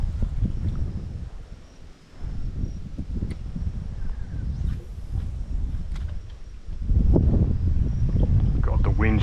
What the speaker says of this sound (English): the wind's just pushing straight into here